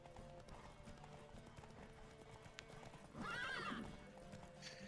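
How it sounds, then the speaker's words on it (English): A horse in the video game Witcher 3 gallops with a steady rhythmic clip-clop, then lets out a loud, clear whinny near the middle, all under quiet game ambience. "horse you're on doesn't have enough stamina to gallop all the way to the tower"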